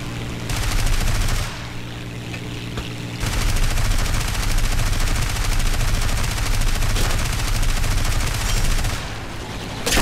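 Rapid bursts of automatic cannon fire from the Vendetta in War Thunder, loud and sustained with a short pause, then continuing steadily before trailing off.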